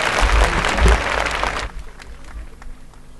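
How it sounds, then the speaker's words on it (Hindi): Crowd applause greets an imam taking the stage at a religious gathering, loud and dense at first, then dropping sharply to a few scattered, fading claps. "तालियों से अभिनंदन करते हैं"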